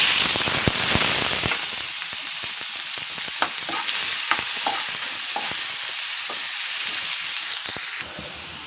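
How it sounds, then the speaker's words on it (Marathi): Chillies, garlic and curry leaves fry in hot oil in a pan as a tempering, giving a steady loud sizzle broken by sharp crackles and pops, with no voices. "मिरची लसूण कढीपत्ताचा आपण तडका घेतलेला आहे"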